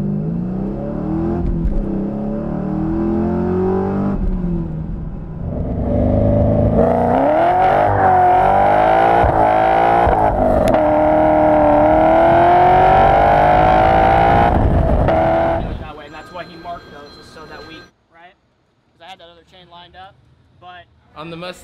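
A Ford Mustang fitted with new camshafts launches hard at the track for a 0-60 mph run, its engine revving up through several rising gear pulls before cutting off, with people talking afterward.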